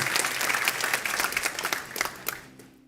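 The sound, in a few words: church congregation applause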